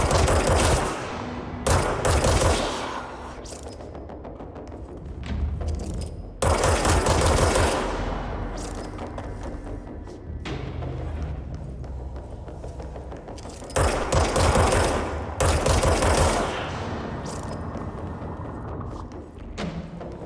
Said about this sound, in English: Who's firing at me?